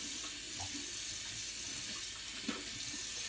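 Cold water runs steadily from a bathroom tap to wet an alum block after shaving, a close continuous splashing hiss with a small knock partway through, no talk.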